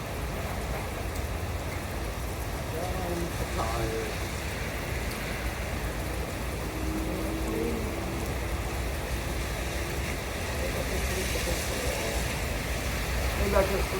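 Heavy rain pours steadily onto a street, a dense, constant hiss and patter that fills the whole scene while someone speaks quietly over it.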